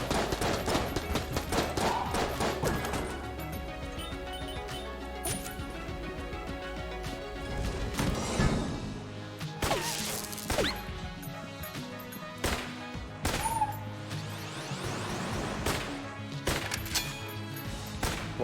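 Rapid gunfire bursts, impacts and weapon reload clicks from the video game Enter the Gungeon, dense and continuous over layered game music and effects.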